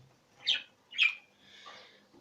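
A jumbo pied budgerigar gives two sharp, high squawks about half a second apart, then a softer, rougher call. The sounds are quiet and close, with no voices.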